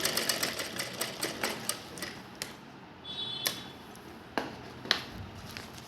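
A sewing machine stitches around a round table cloth in a quick run of rhythmic ticks that slows into a few spaced clicks, close and fairly quiet.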